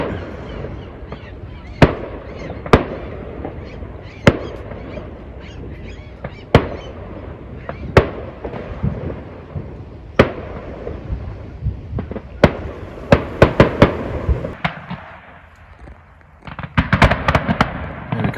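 Garden fireworks burst one after another in sharp, loud bangs spaced a second or two apart, ending in a denser crackling flurry near the end.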